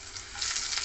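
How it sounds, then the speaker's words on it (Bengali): Grated ginger sizzles in a couple of spoons of white cooking oil for a tofu and vegetable stir fry, a steady close hiss that grows slightly louder, with no one talking. "তেলের মধ্যে দিয়ে দিলাম একটু আদা গ্রেট করে রেখেছি, আদা দিয়ে দিলাম।"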